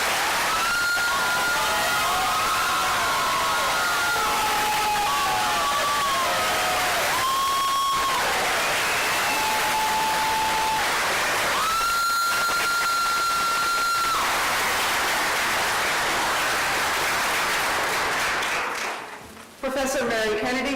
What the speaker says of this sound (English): Let's now give all our students a round of applause